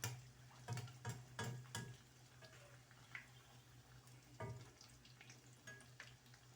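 Puris frying in hot oil in a wok give a soft, constant sizzle and bubbling, broken by a few clattering scrapes and stirs near the start.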